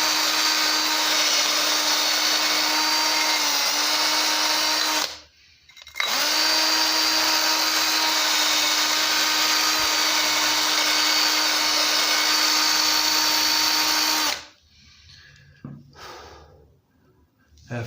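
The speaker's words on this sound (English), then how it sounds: "After this, we use some more wire brushing." A powered wire brush works over lawnmower engine parts with a loud, steady whine. It runs for about five seconds, stops briefly, runs again for about eight seconds, and then cuts off.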